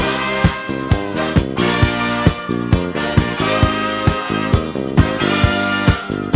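Original song playing as a full, dense recording with a steady beat and repeating chords throughout, loud and continuous, no talking.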